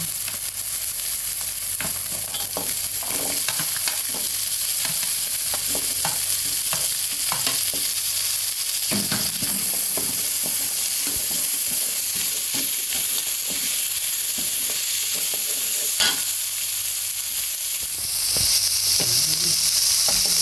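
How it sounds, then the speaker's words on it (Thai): Stink beans stir-fried with shrimp paste in a hot pan for a Thai fresh-shrimp dish make a steady, close sizzle with frequent clattering stirs of the utensil throughout, without any voices. "แล้วก็ใส่สตอลงไปผัดก่อนจ้า"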